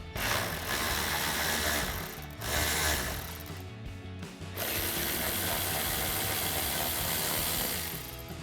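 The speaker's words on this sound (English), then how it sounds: "So our first step is to remove these 2 8mm bolts." A socket wrench ratchets steadily as it backs two 8mm bolts out of a Jeep Gladiator JT splash guard, a close, continuous clicking with two brief pauses between runs.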